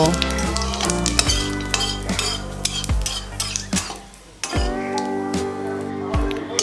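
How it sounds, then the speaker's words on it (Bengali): A bay leaf and cumin seeds sizzle in hot oil as a tempering. A spoon scrapes and clinks against the pan in irregular strokes over a continuous crackling fry, with occasional brief voices in the background. "এবারে ওই তেলেই ফোড়নে দেব একটা তেজপাতা আর অল্প পরিমাণে জিরা এবারে নাড়াচাড়া করে ফোড়নটাকে একটু ফুটিয়ে নেব"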